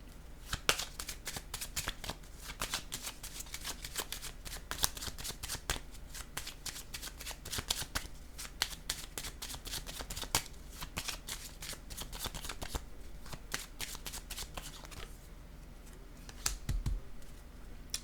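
Tarot cards being shuffled up close, a long run of rapid crisp riffling and flicking bursts that continues steadily with only brief pauses.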